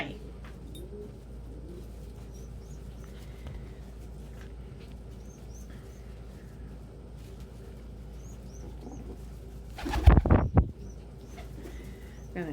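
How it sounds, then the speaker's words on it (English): Pigeons or doves coo softly at a backyard feeding spot in the morning, faint and distant over a steady low hum, with a sudden louder burst of flapping or clatter near the end. "Gonna chill out with birds for the next 18 and a half minutes."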